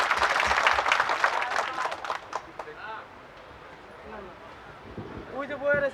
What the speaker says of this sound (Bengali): জোরে করতালি।